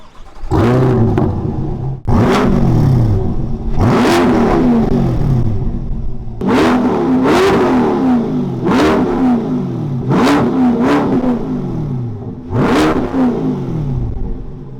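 A Chevrolet C8 Corvette fitted with a Label titanium exhaust is revved repeatedly outdoors in light wind, with a series of sharp, loud throttle blips that each rise and fall back to a steady idle.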